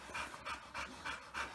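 Tired Dogo Argentino dogs pant close by in a quick, even rhythm of about five breaths, soft and breathy with no voices.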